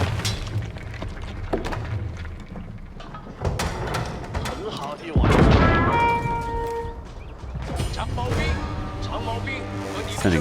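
Cannons fire in an Age of Empires 4 battle, with repeated booming shots and mechanical clatter among layered combat sounds and music, while a player talks over the action.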